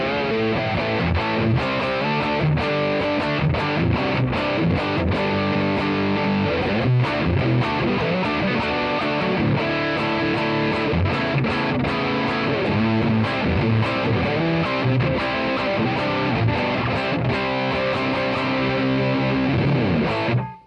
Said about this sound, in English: So let's bring the distortion up.